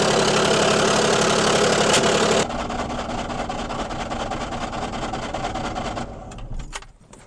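An ex-ambulance Ford XF engine with a blocked exhaust runs roughly and loudly at first, then settles to a quieter idle before dropping away near the end, with no one talking.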